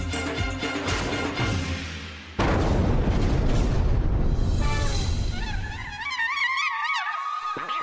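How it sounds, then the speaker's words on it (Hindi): A bomb explosion sound effect in a Hindi TV comedy bursts in suddenly as a loud boom with a long rumbling decay, followed by whistling, warbling tones and a faint thud. "हम नहीं फटे हैं, ये बम फटा है"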